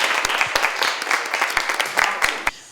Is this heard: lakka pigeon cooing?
no